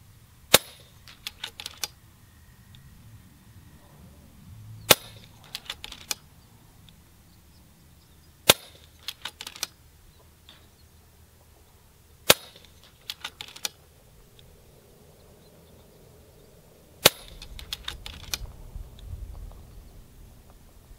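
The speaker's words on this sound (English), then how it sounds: "All right, 10 shots with the 30 cal now." FX Impact .30 caliber air rifle firing a string of shots, each a sharp close crack spaced several seconds apart, with faint clicks and handling noises between shots.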